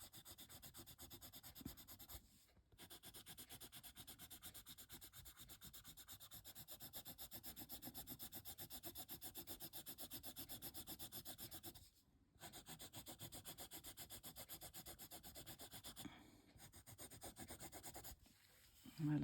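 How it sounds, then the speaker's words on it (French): A Derwent burnisher rubs back and forth over a colored pencil drawing of black hair with blue and purple highlights. It makes soft, rapid, rhythmic scratchy strokes, close but faint, broken by a few brief pauses. "Je vais passer maintenant le burnisher de Derwent."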